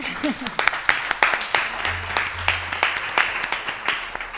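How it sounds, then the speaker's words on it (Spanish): An audience at a talk on digital poetry editing gives applause, with distinct claps close to the listener standing out over a softer spread of clapping and a brief voice at the start. "Creo que se merece un aplauso"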